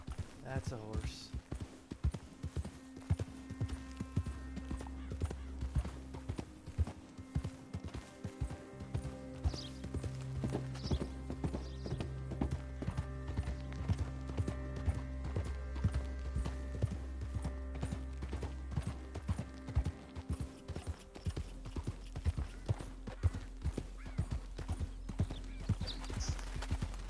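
Horse hooves clip-clop steadily along in Red Dead Redemption 2, a rhythmic trotting pattern running under a spoken voice and in-game music and ambience, with the hoofbeats fairly close and continuous throughout.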